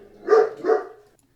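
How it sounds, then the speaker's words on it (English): Two quick, close barks from a dog, loud and clear in a quiet room, followed by silence. "Apologize for my dogs."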